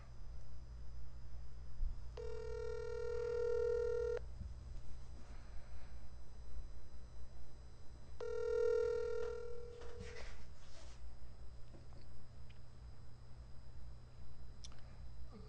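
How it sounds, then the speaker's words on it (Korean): A telephone ringback tone sounds while a call is being placed: two long ring pulses, each about two seconds, separated by a pause, over a faint background hum. "전화해볼게요."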